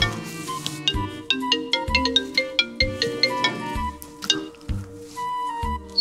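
Phone ringtone going off during a church service, a bright melodic electronic tune with plucked notes over a repeating bass pattern, loud and close, playing on alone.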